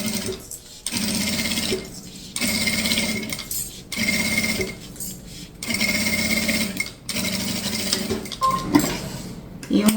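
A sewing machine stitches a small shoulder bag with a zipper foot, running in several steady whirring bursts separated by short pauses, close and clear, with light clicks and fabric handling between runs.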